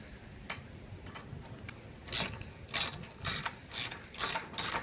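A ratchet clicks in a rhythmic series of about six bursts on a transmission bolt of a 2013-2016 Ford Escape 2.0L AWD during a 6F35 transmission replacement, close and distinct after a quieter start.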